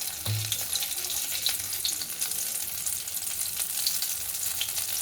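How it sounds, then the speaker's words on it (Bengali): Batter for mihidana frying in ghee makes a dense, even hiss with faint crackles, close and continuous for the whole stretch without any voices. "এই আস্তে আস্তে করে তেলে দিয়ে দিচ্ছি।"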